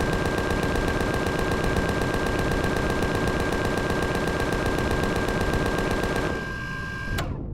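Ship weapons fire in the space game Empyrion Galactic Survival as a loud, rapid, machine-gun-like stream of evenly spaced shots that runs for about six seconds, then stops with a brief final burst.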